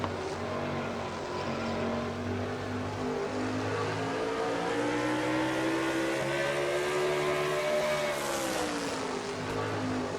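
Racing truck engine lapping Martinsville speedway in a truck series race, a loud sustained onboard drone with rising and falling harmonic pitch as the truck accelerates through the turns, no talk.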